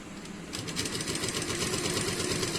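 A sewing machine stitches the sleeve of a suit, starting after a brief pause and running steadily with a fast, even mechanical rhythm, close and fairly loud.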